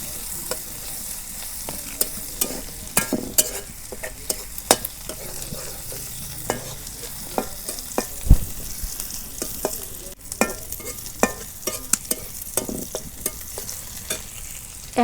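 Cumin seeds fry in oil in a pan for a village taro-leaf dish, a constant sizzle punctuated by frequent sharp scraping clicks of stirring, close and without speech.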